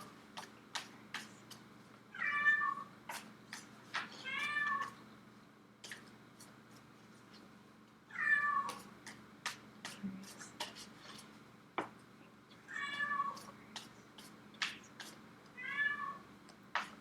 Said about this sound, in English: I'm trying so hard not to get annoyed with that cat.